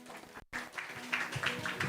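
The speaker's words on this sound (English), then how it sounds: "Give a round of applause for Andy." A live audience at an esports trading competition at Coinfest Asia gives a fairly faint, short round of applause, heard as uneven bursts of clapping across a large hall.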